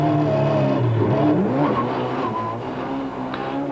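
A Ford Laser rally car races through Malmesbury town streets during the 1992 Swartland Rally, its engine loud and close, revving and shifting pitch as it passes, with tyre noise continuous throughout.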